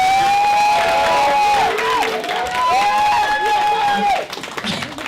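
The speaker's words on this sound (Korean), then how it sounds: "선생님 자리로 나오실 때까지 큰 박수 부탁드리겠습니다." High school students at a student council leadership retreat clap and cheer loudly for their teachers, a dense crowd roar with whoops and shouted voices over steady applause that thins near the end.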